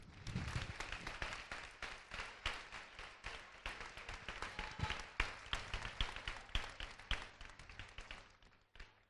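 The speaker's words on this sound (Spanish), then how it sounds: "Un aplauso" An audience at the Villarrobledo Carnival inauguration claps in sustained, dense applause that holds steady for several seconds before fading out, heard at a distance and fairly quiet.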